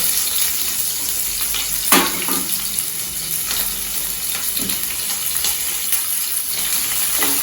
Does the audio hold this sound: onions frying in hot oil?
yes